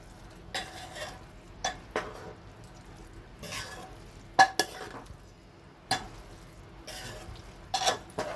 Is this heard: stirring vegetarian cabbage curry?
yes